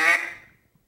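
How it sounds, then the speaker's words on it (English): A hand-blown duck call gives a single sharp, nasal quack that rings briefly and fades quickly into silence, heard close and alone. "let's put 3 quacks in the same breath"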